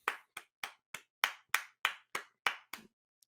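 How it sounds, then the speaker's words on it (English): About ten sharp, evenly spaced hand claps ring out close and distinct, then stop, with silence between each clap. "Let's give him a little round of applause."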